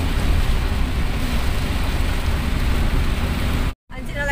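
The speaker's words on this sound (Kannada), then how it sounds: "ನೋಡಿ ಮಳೆ ನೋಡಿ, ಭಯಂಕರ ಮಳೆ." Heavy downpour drumming on a moving vehicle during a road trip in the Mangaluru area, a dense, steady roar of rain with low road rumble throughout, briefly cutting out near the end.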